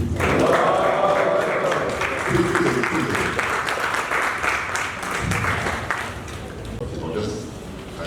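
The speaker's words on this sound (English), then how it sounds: "Please, the moment you can clap, the moment you can do it" Applause from an audience at a Ramadan lecture series, a full, close burst of clapping that holds for several seconds and then thins, with voices talking over it.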